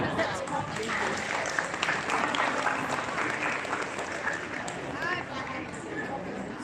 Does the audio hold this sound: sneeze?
no